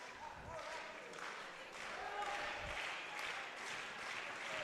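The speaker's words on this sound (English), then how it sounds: "When you hear that clapping like that, Terry, that means Roseburg has somebody on" Rhythmic crowd clapping fills a school district wrestling semifinal, steady and moderately loud, mixed with arena chatter and the voices of commentators.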